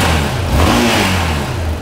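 A Yamaha XT 600 motorcycle with a large exhaust, its single-cylinder engine rumbling loudly and close, the pitch rising briefly as it revs before settling back.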